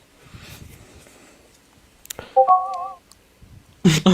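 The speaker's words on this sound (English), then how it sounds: "You guys can hear my notifications." Short electronic phone notification chime of three stacked tones, sounding clearly once during a livestream, followed by a sharp louder burst near the end.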